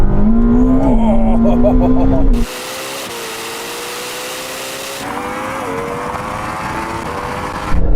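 A Yamaha R1M motorcycle accelerates hard in a drag race, a loud rising engine note and shifting whine heard close, followed by a roaring rush as it speeds past.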